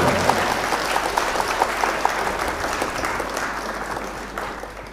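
At an All India mushaira, the audience gives a loud, steady round of applause welcoming the poet Preeti Agarwal, a dense crowd clapping that gradually fades.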